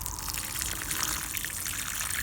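Water from a hose running over loosened, hoed garden soil beside pepper plants, a steady close hiss and trickle that continues evenly without pause.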